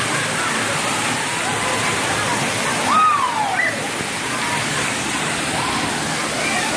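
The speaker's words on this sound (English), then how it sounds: "those buckets will fill up, come down, and get you soaking wet" At a Soak City water park, large buckets fill and tip over, and the water roars in a steady, loud wash like a waterfall. A faint whistle-like tone rises briefly midway.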